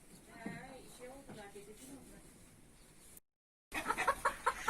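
Brahma rooster and hens clucking in a poultry yard, soft calls mixed under someone talking, then after a brief silent gap a louder run of close, sharp clucks and squawks.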